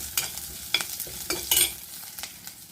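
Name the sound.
garlic and red chillies sautéing in a pan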